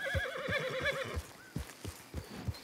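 A horse in Red Dead Redemption 2 gives a loud, quavering whinny lasting about a second, followed by heavy hoofbeats thudding in an uneven rhythm close by.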